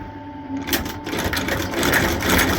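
A sewing machine runs steadily and loudly up close, stitching a repair on Cheaney tweed boots with a fast, even mechanical whir and needle chatter.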